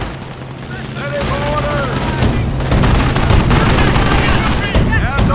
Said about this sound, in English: We are coming under fire!